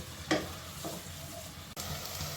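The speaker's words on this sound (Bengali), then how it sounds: "এই যে আমি পেঁয়াজটাকে মোটামুটি নরম করে ফেলছি" Chopped onions fry softly in a pan, sizzling quietly while a utensil scrapes and stirs them in a few brief strokes, close but low in level, with no talk.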